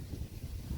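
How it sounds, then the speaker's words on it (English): Steady low wind rumble buffeting the microphone, with no other sounds. "It's windy, and I apologize for the wind on last night's video"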